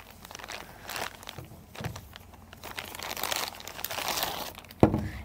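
VCI anti-rust plastic packaging bag around a fuel injector being handled, close irregular crinkling and rustling bursts with a sharper crackle near the end.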